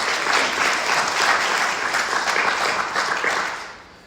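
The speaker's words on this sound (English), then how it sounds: "give yourselves a round of applause" Sustained crowd applause at a speech gathering, loud and even throughout, fading out toward the end.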